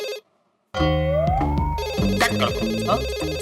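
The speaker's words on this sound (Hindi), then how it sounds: "सर जेठालाल का फोन आ रहा है।" A phone ringtone plays loudly after a brief silence, a looping electronic melody with background music mixed in.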